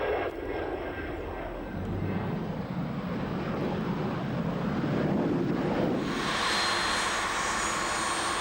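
A private jet, an American-registered business aircraft, arrives at Sebring in central Florida after a short hop from Clearwater, its steady engine roar mixed with wind buffeting on the microphone and swelling into brighter jet whine toward the end.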